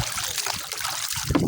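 Water trickles and splashes close by on a fishing boat at sea, a continuous bright, busy sloshing with small irregular bursts.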